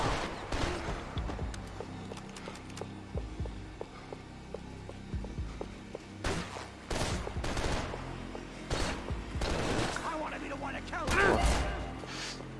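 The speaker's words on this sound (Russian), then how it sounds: "Блин, полуавтоматический, что ли, дробовик." A semi-automatic shotgun in the Max Payne 3 game fires in repeated sharp blasts amid other gunfire and crashes, with someone talking over the action.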